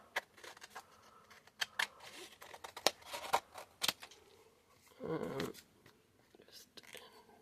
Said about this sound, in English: I'm just going to get my scissors and cut from the back here.